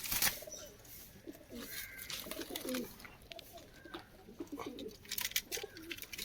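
Pigeons in Kozhikode coo in low, throaty, repeated phrases close by, with bursts of rustling and a brief flutter, over a quiet background and without speech.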